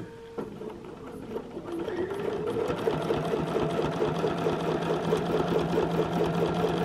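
Sewing machine stitching small circles on a quilt, a fast steady needle rhythm that starts softly and settles into a continuous loud mechanical whir close by.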